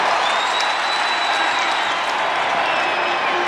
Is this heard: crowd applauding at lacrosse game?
yes